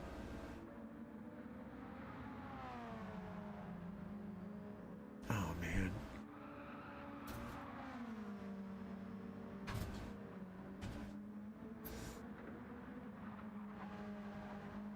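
Race-car engines in the GTC World Cup racing video game hum steadily, pitch shifting as cars accelerate and back off, with a few brief sharp bursts on top. The level stays moderate and no voices are heard.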